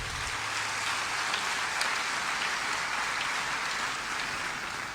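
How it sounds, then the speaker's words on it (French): Warm, sustained applause fills a ceremony hall at an official prize-giving, a dense, even wash of many hands clapping steadily for the full stretch with no voices rising above it. "recevez l'expression de la reconnaissance de cette salle devenue un Sénégal en miniature à travers ses applaudissements nourris et chaleureux."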